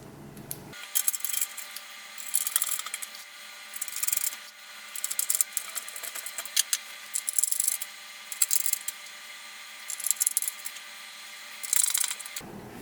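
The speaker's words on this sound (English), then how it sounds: "Alright, I've replaced all the screws. And again, I was using the T15 drive." Motherboard screws are driven back into an HP Pavilion Gaming Desktop 690-0073w case with a T15 driver: short bursts of close metallic turning and rubbing, repeated in a steady series over a faint background hum.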